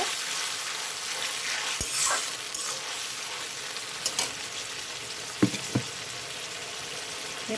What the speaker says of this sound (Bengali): তো এখানে আমার পেঁয়াজটা ভাজা হয়ে গেছে। আমি এখানে সমস্ত মশলাগুলো দিয়ে দিব।